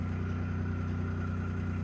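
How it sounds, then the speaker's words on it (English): A Kubota engine runs at a steady idle, a constant low mechanical drone with a strong low hum and a continuous rattle, close and even throughout with no talking. "It's the sound of the Kubota."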